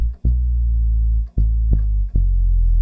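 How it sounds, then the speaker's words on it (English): A synthesizer bass line with glide (portamento) on every note plays a few deep, sustained notes, each sliding smoothly into the next, clean and alone. "Now, almost all synthesizers have glide, or in some cases known as portamento."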